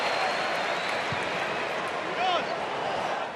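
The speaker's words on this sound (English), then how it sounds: "He wants the applause." A stadium crowd at an AFL football match roars and applauds in a dense, steady wash of noise, swelling briefly near the end.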